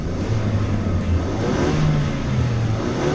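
Engine of a 2019-2022 Ford Ranger with a throttle controller installed, revving steadily and loudly up close, a continuous drone with slight rises in pitch and no voices.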